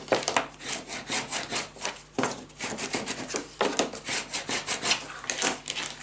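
Paper burnished down by hand onto a gatefold mini album, a dry rhythmic rubbing and scraping in repeated close strokes with short pauses, loud and alone.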